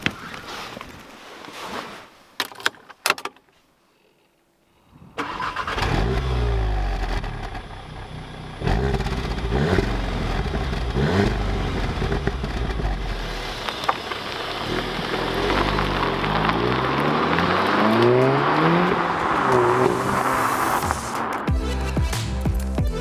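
A manual-gearbox VW MK7 Golf R driving, starting after a few seconds of quiet and clicks. Engine and road roar build, rise and fall through gear changes, and a steady cabin drone carries on to the end.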